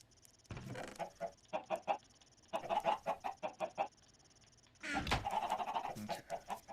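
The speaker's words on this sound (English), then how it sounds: "let's get some chickens now" Video-game chickens cluck in short repeated bursts and rapid runs of clucks, close and clear with no talk over them.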